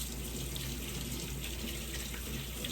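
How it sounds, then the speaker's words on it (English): Hands washed under a running kitchen tap after applying dry rub to baby back ribs, a continuous close rush of water splashing into a sink at steady volume. "Let me wash my hands really quick."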